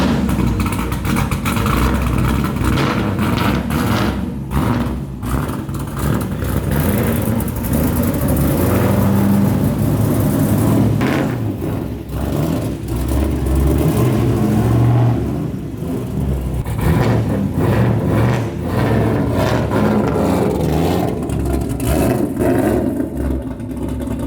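A Mazda Miata fitted with an LS V8 engine runs while being shuffled out of a garage, a loud, continuous rumbling engine with throttle blips and revving surges over about twenty-four seconds, no talk.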